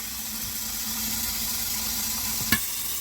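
Pork sizzling in a frying pan, a steady, moderately quiet hiss with a faint hum beneath and one brief clink near the end.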